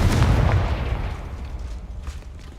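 A Confringo fire spell explodes in Hogwarts Legacy, a single close, loud booming blast with a heavy low rumble that decays over a couple of seconds.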